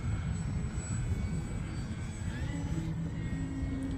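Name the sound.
Eflite Extra 300 RC airplane flying in the wind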